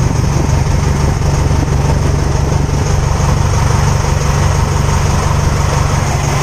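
A 4HE1 diesel truck engine idles continuously, steady and rumbling, with a low throbbing exhaust drone from the tailpipe and no pauses, close by and fairly loud.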